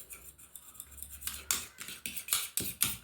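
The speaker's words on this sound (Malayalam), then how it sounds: "നന്നായിട്ട് അത് ആ ബ്രൂവിൻ്റെ പൊടിയും മുട്ടയുടെ വെള്ളയും കൂടെ നന്നായിട്ട് മിക്സ്" A spoon stirs egg white and coffee powder into a face mask mixture in a small bowl, producing rapid, close clinking and scraping taps in an uneven rhythm that quickens midway.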